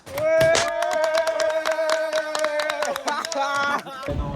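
At a birthday celebration, a group claps in a quick, even rhythm for a few seconds, close and fairly loud, over a sustained sung or hummed tone.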